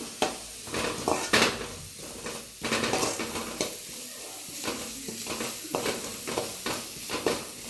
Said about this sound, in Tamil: கறி மசாலா 1/2 ஸ்பூன் சேர்த்து நல்லா வதக்குங்க.